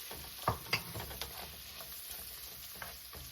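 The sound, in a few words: onions frying and caramelizing in a pan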